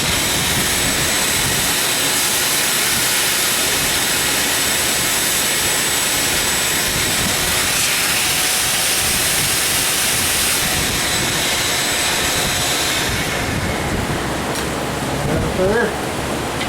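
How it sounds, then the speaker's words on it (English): A shop vac runs continuously with a loud, steady roaring hiss throughout, near and constant, during work replacing rocker studs on a Chevy 350 engine, with faint talk under it. "I have the shop vac ready."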